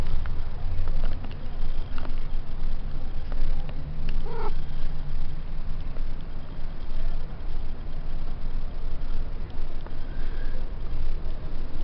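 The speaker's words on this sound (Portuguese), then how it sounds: "Ó meu gatinho mamando." A kitten nursing from its mother cat, with a steady, close, low rumbling texture and faint cat sounds throughout, no talking.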